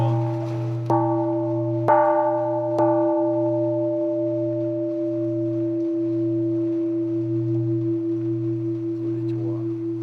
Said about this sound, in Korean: 종이 완성이 되면 종소리를 이렇게 들어보고 테스트를 하거든요.